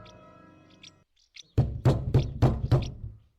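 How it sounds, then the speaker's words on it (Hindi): Five evenly spaced, loud knocks on a door ring out close by after a faint eerie musical drone, as a sound effect in a Hindi horror podcast. "तब से खटखटा रहे हैं"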